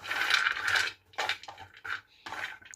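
Almonds, cashews, walnuts and pistachios, about 500 grams, tumble into an open pan over a medium-low flame in a moong dal panjeeri kitchen, giving several close bursts of hard clattering and rattling with short pauses between pours.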